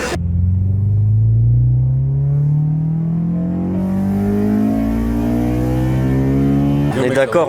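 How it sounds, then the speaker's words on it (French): A Honda S2000's VTEC engine revs up close and loud, its pitch climbing steadily and smoothly over several seconds in one long sustained pull. "Et le VTEC de chez Honda fait une sonorité exceptionnelle."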